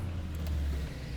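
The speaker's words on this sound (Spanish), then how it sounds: "vamos ya a poner en marcha este motor V8" A first-generation Porsche Cayenne's 450-horsepower turbocharged V8 sits at a deep, steady idle, its low rumble close and even throughout, with no voices.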